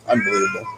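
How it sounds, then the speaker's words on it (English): A cat lets out a drawn-out, wailing meow in the background while a person speaks over it. "I think the cat is screaming in the back."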